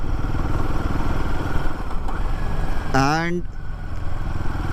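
A Royal Enfield Himalayan 450 motorcycle engine pulls at low speed in second gear with a steady, close, mid-pitched drone. Someone talks over it, and a brief rising electronic chirp cuts in partway through.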